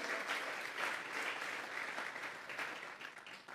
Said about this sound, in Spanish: regálele otra ofrenda de palmas al Dios de la gloria